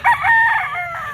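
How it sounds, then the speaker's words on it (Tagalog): Rooster crowing at a poultry market, one loud nearby call with a second bird's crow overlapping near the end. "Maraming manok."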